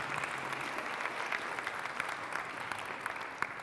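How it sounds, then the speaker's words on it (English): An audience claps for teachers at a school event. The applause is steady and moderate, and it continues evenly throughout with no voices over it. "Let's give our teachers a round of applause."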